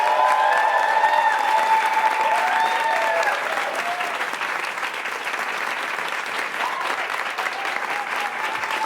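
An indoor audience at a live music session gives sustained, dense clapping with some cheering. It starts loud and eases slightly as it continues steadily for nearly nine seconds.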